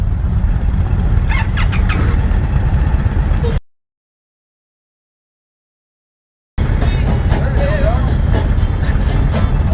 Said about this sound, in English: With the Scout, and then you fuel pump on, and then just hit the starter button.